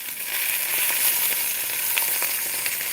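Fresh wild boar shoulder sears in a hot pan with a steady, close sizzle and scattered crackling pops throughout, no voices present.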